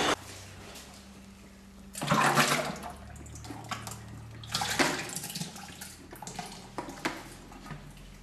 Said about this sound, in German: Jetzt schleime ich das mit dem kalten Wasser aus.